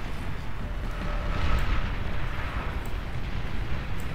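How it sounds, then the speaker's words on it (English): A big explosion in a video game, played on a land map with boats, comes through as a deep, sustained rumbling roar that swells and then lingers as a broad, distant-sounding wash. "Big explosion over here, by the way."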